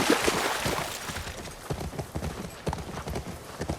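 A ridden horse in The Last of Us Part II clip-clops along at a steady walking rhythm, with hoofbeats close and clear throughout.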